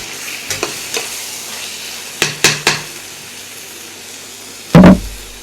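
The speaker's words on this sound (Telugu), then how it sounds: "అన్నీ బాగా కలుపుకొని బాగా వేయించుకోవాలి." A thick gravy paste for fish kofta fries in a pan while a spoon stirs and scrapes it in several short, close strokes, ending with a louder clunk of the spoon against the pan.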